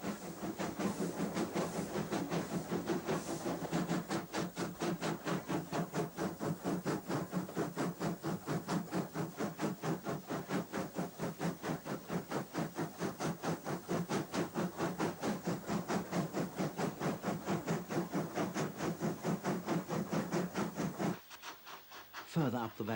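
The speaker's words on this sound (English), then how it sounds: "workers step aside at the sound of the approaching train." Preserved steam locomotive number 5 climbs the valley towards Goathland, its exhaust beating in a steady, rapid chuff with hissing steam, sustained and fairly distant before a brief drop near the end.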